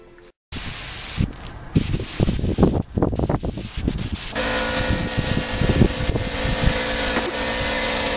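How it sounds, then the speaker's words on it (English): Strong outdoor wind gusting around a workspace during a Yamaha FZR motorcycle restoration, loud buffeting roar that builds into a steady rushing blast, with some clattering bursts early on. "It's really windy now."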